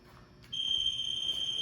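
A 30-second exercise timer alarm goes off during a fitness class. After a quiet start, a loud, steady high-pitched electronic tone begins abruptly and sounds without a break to the end.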